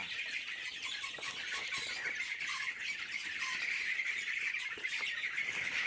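A flock of frightened Egyptian Fayoumi chickens on a farm squawks and squeals without a break, many birds calling over one another in a dense, steady din.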